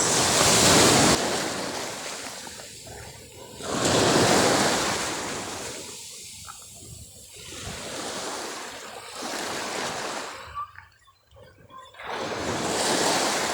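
Ocean surf at high tide during early-morning fishing from shore, with waves repeatedly surging and washing in loud swells and wind buffeting the microphone between them.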